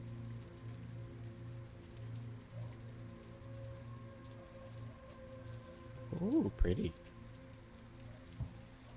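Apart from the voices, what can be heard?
rain in the video game Rouge Noir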